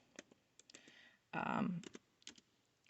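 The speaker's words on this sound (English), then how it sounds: "I'm just going to type my youngest child's name in." Typing on a computer keyboard, scattered close key clicks with a short burst of louder rustling in the middle, quiet overall and alone.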